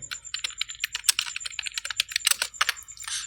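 Rapid, continuous typing on a computer keyboard while text is entered into Excel cells, dense overlapping clicks heard up close with no voices.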